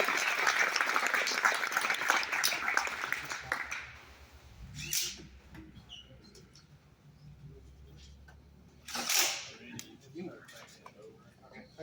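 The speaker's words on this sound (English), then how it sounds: "Let's give them a big round of applause, cheer them on to the finish here today in the Motorsports Team Shop" Applause for students in a motorsports team shop: a burst of clapping and cheering at the start that fades out after a few seconds, followed by quieter room noise with someone speaking.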